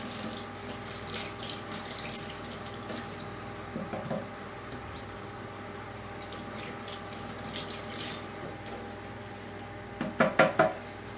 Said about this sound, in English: we'll just give these a good rinse off, get rid of any excess seeds.